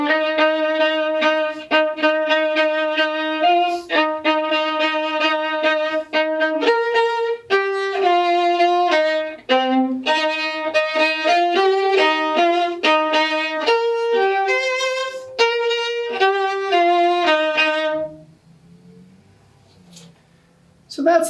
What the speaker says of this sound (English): So that's the sound of the viola